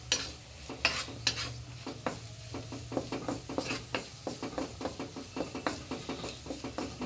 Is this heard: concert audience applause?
no